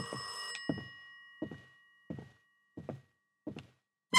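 An old-style telephone bell rings in an indie horror game, with one long ring followed by a series of short, evenly spaced rings in a quiet room.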